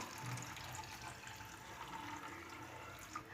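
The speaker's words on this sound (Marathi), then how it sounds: "आता आपलं पाणी देखील चांगलं कडकडीत गरम करून झालेलं आहे, ते यामध्ये टाकून घेऊया।" Boiling hot water poured onto sabudana (sago pearls), a steady watery rush and splash, moderately faint and continuous throughout with no talk.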